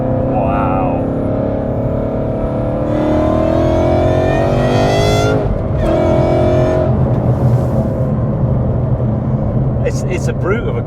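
An 862bhp supercharged Ford Mustang GT revs hard toward 8,000 RPM, its loud roar rising in pitch in sweeping pulls with supercharger whine, dropping between, heard close from inside with occasional voices over it.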